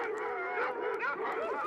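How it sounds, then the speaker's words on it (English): A dog in an old radio drama gives a continuous whining, howling bark-like vocalization, moderately loud and wavering, with no talk over it. "My dog does have a distinctive voice like that, doesn't he?"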